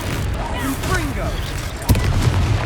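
Explosive fire spell in the Hogwarts Legacy video game: one sharp, loud blast bursts out partway through, over steady game background noise and character voices talking.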